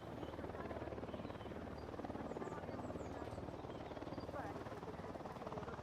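A helicopter in the video game Ghost Recon Wildlands drones with a steady rotor thump throughout, fairly distant and even in level, with no voices over it.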